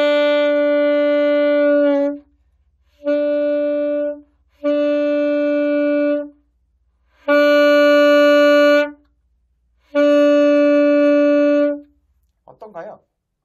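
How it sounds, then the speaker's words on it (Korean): Five sustained saxophone notes played with less of the mouthpiece taken into the mouth, each held about one to two seconds with short gaps of silence between them, loud and close, ending in a brief scrape of handling noise. "뒤로 조금 물수록 이렇게 소리가 바뀌게 됩니다"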